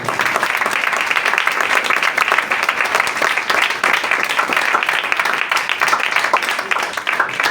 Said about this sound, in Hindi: आइए खुदावंद के लिए जोरदार तालियां।